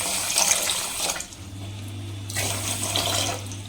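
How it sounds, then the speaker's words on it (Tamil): Water poured from a tap-like stream over sugar in a pan, a steady close splashing rush that breaks off briefly midway and then resumes, with no voices. "தண்ணி இது வந்து நல்லா சக்கரை முழுகிற அளவுக்கு தண்ணி ஊற்றிக்கலாம்."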